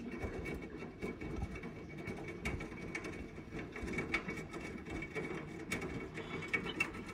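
Samsung washing machine running a wash cycle, a faint steady mechanical churning with irregular clicks and knocks throughout, heard close in a quiet room.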